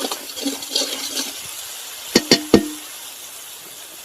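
Spice paste fries in oil for a Bengali shol fish kalia, giving a steady, close hiss. Three sharp knocks, like a utensil against the pan, break in partway through before the sizzle continues alone.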